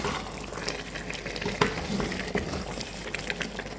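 A pot of cassava leaf stew simmers and sizzles with steamed-out protein juices, a steady close bubbling hiss with scattered small pops and clicks and no talking.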